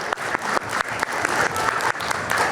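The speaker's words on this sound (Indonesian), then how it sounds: "boleh tepuk tangan silakan." Applause from a studio audience on an Indonesian talk show, loud, close, rhythmic clapping with distinct sharp hits repeating through the short burst.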